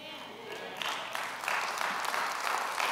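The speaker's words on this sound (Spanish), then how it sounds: "si le vas a aplaudir, apláudele bien" A church congregation breaks into applause during a sermon, the clapping swelling in waves from soft to fuller and staying dense and sustained.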